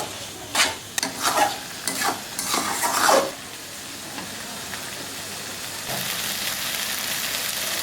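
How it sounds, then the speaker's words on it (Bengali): Taro leaves cooking with fish head in a pan, stirred in several scraping, sloshing strokes over the first few seconds, then a steady close sizzle and hiss continues without talk. "যতক্ষণ না জলটা টানে ভালো করে নাড়াইতে থাকেন"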